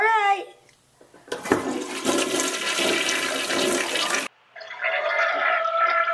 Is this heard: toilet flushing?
yes